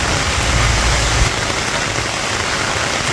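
Heavy rain pours down steadily on a Bangladeshi village in the rainy season, a loud unbroken roar of drops striking surfaces nearby, with no talking.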